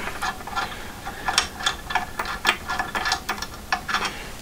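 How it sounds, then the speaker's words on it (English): A hand ratchet clicks in quick, uneven bursts as a bolt is backed out of a Vevor SWG-25 pipe bender, with close, crisp ticks and no talking. "you need to take this bolt out."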